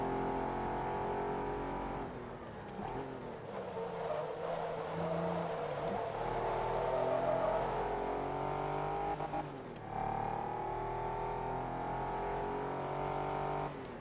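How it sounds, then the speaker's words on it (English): Race car engine in Forza Motorsport 2, a steady droning roar with shifts in pitch as it accelerates and changes gear, with a faint whine, heard alone throughout. "I do like the sound of the engine though,"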